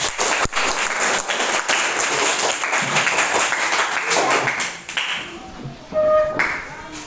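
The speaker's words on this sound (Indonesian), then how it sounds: "kita beri tepuk tangan untuk kelompok 1" A classroom audience claps for a student group after its presentation, a moderate, fairly close patter of hands with some scattered taps and faint voices, thinning out near the end.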